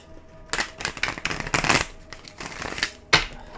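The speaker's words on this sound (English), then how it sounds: "One more shuffle here." Tarot cards riffled and shuffled by hand in a series of quick crisp bursts, close and fairly loud, with a sharp final snap near the end and no talking.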